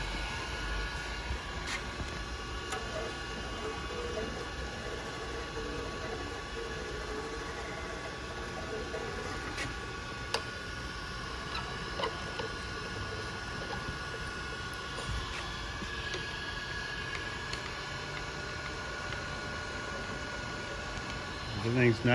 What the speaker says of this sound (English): Everything's nice and smooth, sounds really nice. 618 Chevalier grinder.